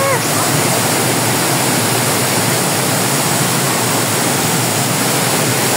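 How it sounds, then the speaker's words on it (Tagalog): Aliw Falls in Luciana, Laguna roars as a loud, steady wash of falling water, a dense broadband rush that stays constant throughout after rain, with no distinct voices over it. "Ito ang Aliw Falls."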